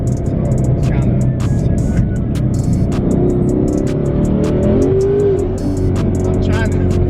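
A 1000+ hp twin-turbo Mustang GT engine rumbles loudly and steadily from inside the car, with revs rising and a brief tire chirp as it strains to launch, under people talking.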